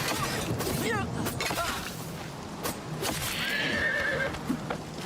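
A horse in Oblivion Remastered, a fantasy role-playing game, whinnies amid game action, its neighs mixing with hoof clatter, scattered impact and swish effects, and some speech.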